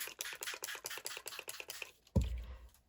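A rapid series of short, crisp spritzes from a water spray bottle in a regular rhythm, close by, ending with a soft low thump, used for a watercolour wash.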